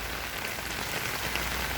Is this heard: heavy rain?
yes